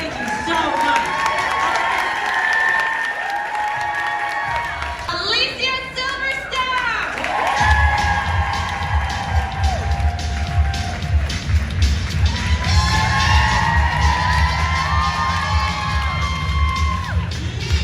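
Large crowd cheering and whooping at the Vegan Women Summit in Los Angeles, a loud sustained roar with shouts rising and falling, voices talking over it throughout.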